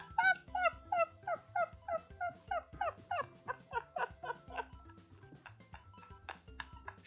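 Dogs in the video game Toadled give a quick run of about a dozen short, pitched yelps, loud at first and then thinning out against quieter game sounds.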